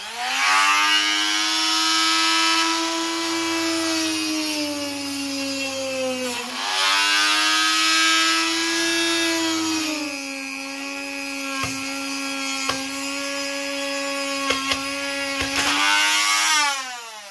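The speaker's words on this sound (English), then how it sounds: "So I'm just going to drill it out and dremel it into shape." High-pitched whine of a Dremel rotary tool running steadily, drilling and shaping a part for a model biplane, pitch dipping and rising as it bites into material, with a few brief clicks.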